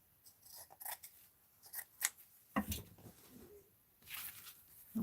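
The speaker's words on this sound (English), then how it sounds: "Let's cut it here." Scissors snip through recycled paper strips in a string of short, close cuts with brief pauses between them, quiet in an otherwise still room.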